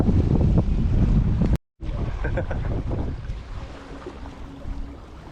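Steady wind buffets a microphone on a Jamaican resort beach where fishing rods are set up, a continuous low roar with surf-like washes, broken by a brief dropout and easing slightly toward the end.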